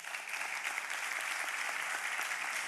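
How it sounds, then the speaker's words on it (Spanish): Audience applause fills a conference hall on expert building-claims analysis, a steady dense patter of many hands clapping throughout with no voices above it. "no hace falta que aplaudáis, aplaudir a Rafael Cebrián, con él los dejo"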